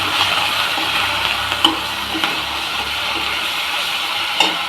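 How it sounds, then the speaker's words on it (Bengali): Spice masala for rohu fish fries in a pan with a loud, steady sizzle and a few sharp stirring scrapes, close up with no talking. "মশলাটা যেহেতু অনেকক্ষণ ধরে ভেজে নিতে হবে"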